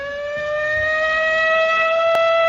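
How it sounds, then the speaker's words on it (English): A civil-defense-style siren wails as a sound effect on a sports talk radio show, holding a single steady tone that slowly rises in loudness, heard alone without any talk. "Plummer, if you want to get the siren ready."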